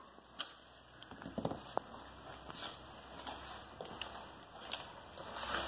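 Light metallic ticks and clicks from a wrench tightening the center bolt on a fat tire scooter handlebar, quiet and intermittent against a faint background hum.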